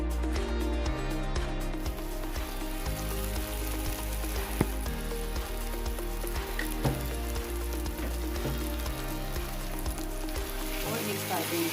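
Fried okra tipped into sizzling masala with green chili and garlic in a pan, a loud dense crackling sizzle continuing steadily throughout, with an occasional clink of a utensil.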